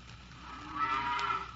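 A single drawn-out cow moo from a radio drama, a low lowing call that swells in the middle and fades, fairly close against a faint background hiss.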